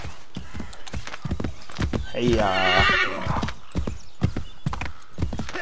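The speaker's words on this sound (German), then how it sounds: "Da ist unser schönes Pferd." A horse in Assassin's Creed 3 clops along and lets out a loud whinny in the middle, its hoofbeats repeating steadily around it while someone talks briefly over the sounds.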